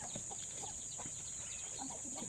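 Chickens cluck in short, scattered bursts at a low level against a steady background hiss, with no talk over them.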